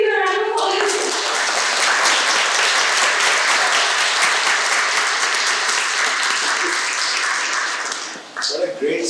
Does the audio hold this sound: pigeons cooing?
no